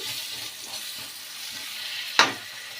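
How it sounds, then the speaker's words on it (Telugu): Onions fry in a pan with turmeric toward golden brown, giving a soft, steady sizzle with a few light stirs and one sharp clack of a utensil near the end. No one speaks. "ఇంకా కొంచెం పసుపు ఉల్లిపాయలు అయితే గోల్డెన్ కలర్ అయితే వచ్చేస్తాయి"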